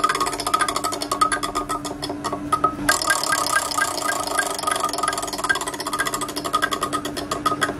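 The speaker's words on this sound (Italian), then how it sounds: "il rumore diverso è dovuto al fatto che tutti i chiodi sono piantati ad altezze un po' diverse" A homemade fishing roulette wheel spins and clicks over nails hammered in at slightly different heights, giving a fast, steady run of bright ticks that varies a little in pitch and carries on throughout at moderate loudness.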